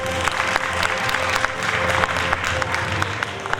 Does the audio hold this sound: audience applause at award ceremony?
yes